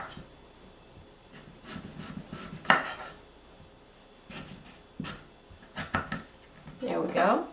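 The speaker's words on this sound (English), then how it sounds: "Now, I'm going to cut it in roughly 1/2 inch pieces all the way across." A knife cuts a rutabaga into half-inch pieces on a board, making sparse, irregular taps and crunches that stand out from a quiet background.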